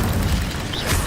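An Incendio fire spell cast in Hogwarts Legacy, a short loud whooshing burst with a heavy low rumble.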